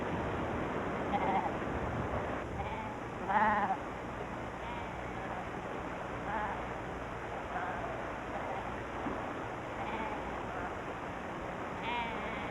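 Goats bleat several times over a constant windy outdoor hiss in the Ladakh mountains, their calls scattered and moderately distant, one louder cry rising above the rest.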